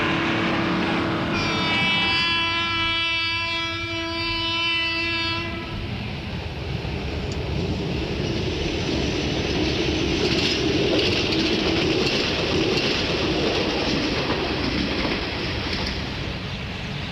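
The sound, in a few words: train with railway wagons loaded with logs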